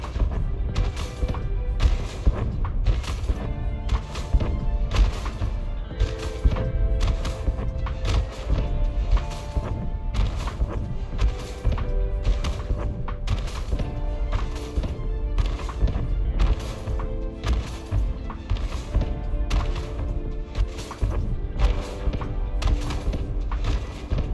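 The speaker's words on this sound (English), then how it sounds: "Fireworks, gentlemen!" Fireworks bursting in the space game Elite Dangerous during a booze cruise event, a dense, continuous run of thuds and cracks with rhythmic pulses over a steady low rumble, loud and busy throughout.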